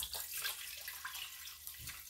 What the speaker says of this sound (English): Now I'm gonna go back over to the stovetop and add in water.